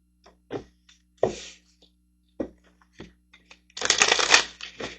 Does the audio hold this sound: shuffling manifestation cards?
yes